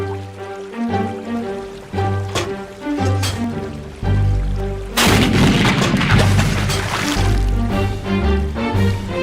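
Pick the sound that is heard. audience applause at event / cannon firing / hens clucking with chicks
cannon firing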